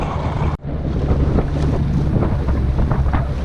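A motor boat heads across the surf line toward the inside of a sandbar at Bahia Santa Maria, Mexico, with loud, steady engine and water rumble and strong wind buffeting the microphone, and a brief dropout near the start.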